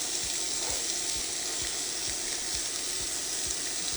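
Ground pork and shrimp sizzle in a skillet with a soft, steady frying hiss and regular light scraping taps, quiet and close.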